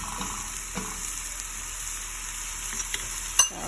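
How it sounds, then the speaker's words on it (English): Vegetables sauté in a pan for a ham and potato casserole, giving a steady close sizzle with a few light stirring clicks and no talk. "So letting this saute."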